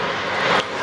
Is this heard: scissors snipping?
no